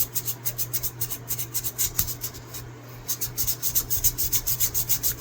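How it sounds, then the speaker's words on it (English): Folded sandpaper rubs back and forth inside an old knife being restored, a steady run of quick, even rasping strokes, close and fairly soft, with no voices. "So I use a regular sandpaper, and you just fold it up a couple of times so that it's a little wider than this, and you can go back and forth"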